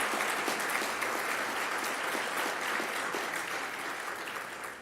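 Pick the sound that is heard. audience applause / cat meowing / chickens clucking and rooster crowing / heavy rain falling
audience applause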